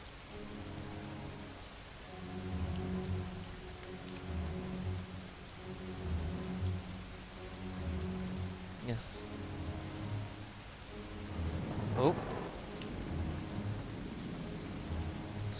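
Steady rain and rolling thunder from a storm in the video game Far From Noise, with a loud thunder crack near the end over continuous rainfall; a person briefly murmurs a couple of words.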